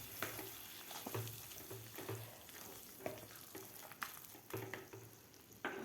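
Carrot halwa with added dry fruits is stirred in a pan, giving a soft, continuous sizzle broken by repeated scraping strokes of the spoon, close and fairly quiet with no voices.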